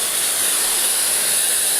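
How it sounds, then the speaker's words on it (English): A steady, loud hair dryer blows on hair set with holding spray during a haircut, a continuous high whooshing hiss with no pauses, close by. "We're gonna blow dry it"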